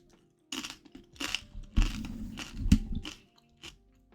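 Loud, close crunching and biting of stale nachos, with several crisp bites and grinding chews packed into a few seconds before the sound trails off.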